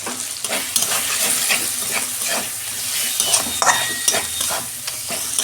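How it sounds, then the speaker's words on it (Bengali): Turmeric and coriander powder spice masala fries in a pan for a bottle gourd dish, a steady close sizzle with scraping stirs and soft clinks throughout, no talk. "এই যে মশলাটা আমার ভাজা হয়ে গেছে"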